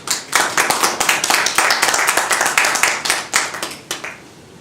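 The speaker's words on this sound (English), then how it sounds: "can I ask you to give a very warm FCCJ afternoon applause to Dr. Jan Oberg." An audience at the FCCJ claps for a speaker in a room with a dense, sustained burst of applause that stays fairly loud, then thins out toward the end.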